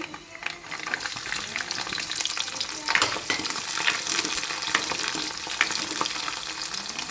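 Dried red chillies and garlic fry in hot oil for a mango pickle, a steady close crackle and sizzle with scattered sharp pops and occasional stirring scrapes.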